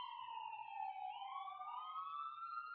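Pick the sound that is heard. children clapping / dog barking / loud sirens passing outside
loud sirens passing outside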